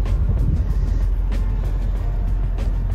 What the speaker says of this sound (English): The motor is cooperating.